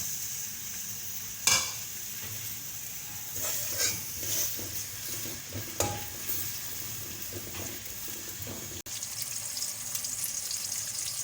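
Chopped onions sizzling in hot oil in a pan for potato rice, a steady frying hiss with occasional stirring scrapes and clinks of a spoon against the pan.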